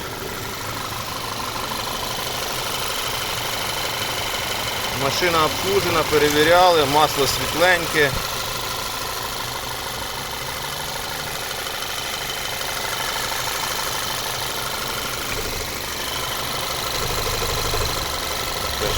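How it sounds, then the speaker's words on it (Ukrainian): A petrol 1.8-litre engine in a 2008 Audi A3 with automatic gearbox idles steadily throughout, a low even hum under someone talking, with a louder stretch of speech in the middle. "Ось так працює двигун."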